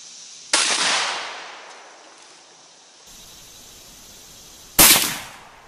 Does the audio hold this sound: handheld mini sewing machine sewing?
no